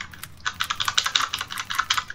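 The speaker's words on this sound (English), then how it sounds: "Am I like actually typing stuff right now?" Rapid keyboard typing during a session of the Roblox game Doors, a close, busy run of crisp key clicks in an uneven rhythm with no talk over it.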